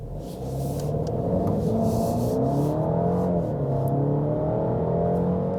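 A 2023 facelifted Alfa Romeo Giulia accelerates into a slight left bend, its engine note rising steadily as a loud, continuous rumble with audible gear progression, heard from inside the car with no talking.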